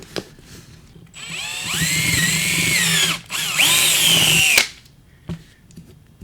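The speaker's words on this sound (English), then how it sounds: "we need a drill, 1/4 inch drill bit" A power drill with a 1/4-inch bit whines loudly in two bursts, its pitch dipping as the bit bites in, with quiet handling noises between.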